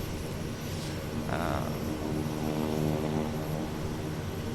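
A Kodiak 100 turboprop engine starts up in a flight simulator game, a steady droning whine and propeller hum holding constant throughout, with a brief rising whistle partway through.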